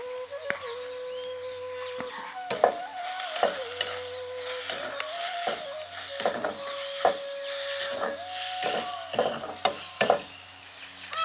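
Onions and tomatoes fry in a pan for a peanut sabji, giving a steady sizzle broken by repeated sharp clinks and scrapes of stirring, with a faint steady tone running behind and no talk.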